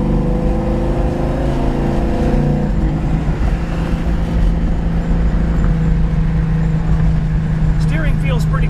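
A 1970 Plymouth Cuda on a test drive, its engine heard from inside the car as a loud, steady rumble that rises when it kicks into passing gear, with a voice talking over it.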